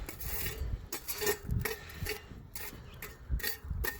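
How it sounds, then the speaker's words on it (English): Hot coals being scraped out from under a trivet to make a bed for cooking: repeated short raspy scrapes and clinks, close and fairly loud, with no talking. "Now I've got too many coals right up in there, so I'm just going to scrape some of that out."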